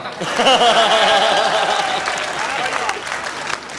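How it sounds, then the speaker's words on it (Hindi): Loud, dense audience applause at a Hindi comedy poetry gathering, a kavi sammelan, swelling early and then tapering slightly, with a voice talking over the clapping. "तालियां बजाओ"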